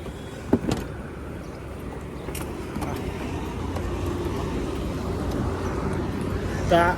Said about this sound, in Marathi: गाड्या चालू आहे त्या